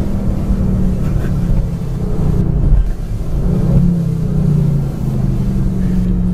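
A Bentley Continental GT V8 S engine rumbles steadily with low throaty revs rising and falling, loud and close, with no talking.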